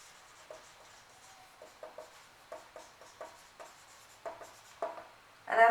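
Pen scratching across paper while notes are written, a series of soft, close strokes and short scribbles in an uneven rhythm, quiet with no talking.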